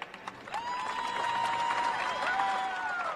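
Tournament fans applaud and cheer as a crowd, a steady wash of clapping with a sliding whistle-like tone riding over it for most of the moment.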